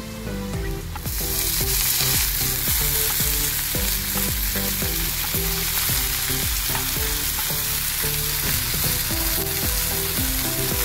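Green chillies and onion roasting in a pan for a Gauri vegetable dish, a loud continuous sizzle beneath prominent rhythmic background music.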